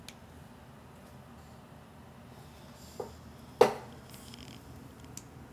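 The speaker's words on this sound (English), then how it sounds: "Cat." A cat sound is played into a small microphone wired to a PyGamer microcontroller board. It comes through faint over low room hiss, with a brief soft call followed by a louder, sharper burst that quickly fades.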